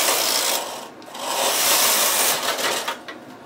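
The main carriage of a knitting machine slides across the needle bed knitting two rows of scalloped edge lace, a close rasping, rubbing whoosh that swells, briefly dips and sweeps again.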